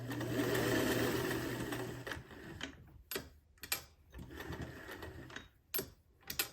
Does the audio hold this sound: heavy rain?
no